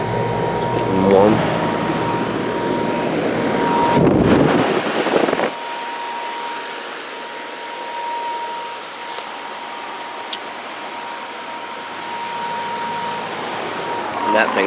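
A Lennox Elite Series XP14 heat pump runs outdoors with a steady hum and a tonal whine, loud and close, and wind-like airflow swells into a burst near the start before settling to a quieter, even drone.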